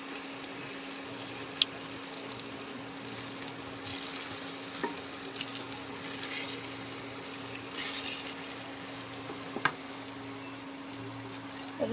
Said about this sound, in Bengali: একটু আধা সেদ্ধ আলু একটু ভালো করে একটু ভেজে নেবো